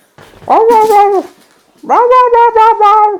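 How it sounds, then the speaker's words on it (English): A dog gives two drawn-out whining, howling barks close by, each about a second long and separated by a brief pause, loud and clear. "Doing some barking at me."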